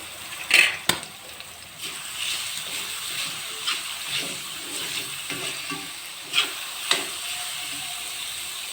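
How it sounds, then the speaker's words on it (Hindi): Chopped onions frying in oil in a kadai, a steady soft sizzle with a few sharp clicks and scrapes of stirring scattered through it, fairly close and without voices. "प्याज जो है वो फ्राई होना स्टार्ट हो गई"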